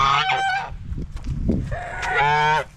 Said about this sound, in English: These geese are so loud.